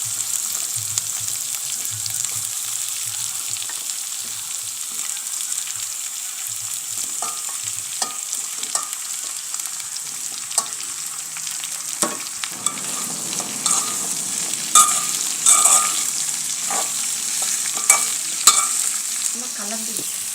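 Onion and vattakkai pieces sautéing in a pan give a soft continuous sizzle with scattered clicks and scrapes of stirring, growing a little busier toward the end, no talking.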